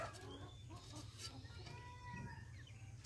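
Native country chickens on a small poultry farm cluck and call faintly at a distance, their short scattered notes sitting above a steady low hum.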